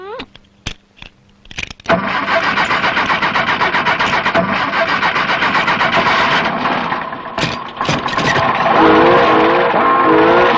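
A car engine cranks with a few sharp clicks, then catches and runs loudly at a rough, revving idle for several seconds, while people speak over it.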